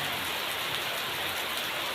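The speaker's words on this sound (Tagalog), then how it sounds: "At umulan na naman ng maganda." Steady rain falls continuously, a dense even hiss of drops on surfaces with no pauses and no voices.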